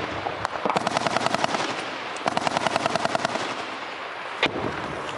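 Close, loud bursts of automatic gunfire in an Afghanistan firefight at an M240 machine-gun nest, with incoming shots as rapid rattling volleys separated by brief pauses and a single sharp crack near the end.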